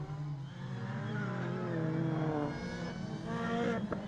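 Mini race cars in a British rallycross round sweep through a loose-surface corner, engines droning and rising in pitch nearby with a brief sharp burst near the end, under faint commentary.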